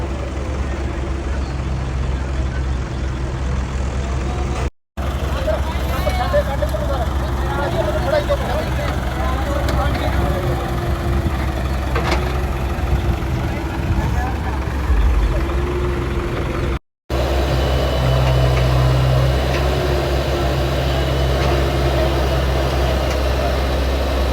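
Tractors rumble and idle while moving soil at a village service in Rajewal, Shahkot, Jalandhar, a steady low diesel drone running throughout with two brief cutouts, under frequent nearby talk.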